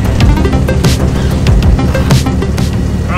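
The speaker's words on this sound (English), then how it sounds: "We're gonna drive this thing out now, get it out of the garage and see what it looks like from far away." A Barra-engined EF car rolls out of a garage, its loud, steady engine drone holding level with rough low rumble and faint mechanical clatter throughout.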